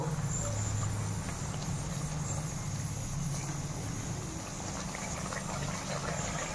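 Fish cooks in a pan on a kitchen stove with a steady, close sizzle and bubbling hiss that carries on unbroken. No one speaks.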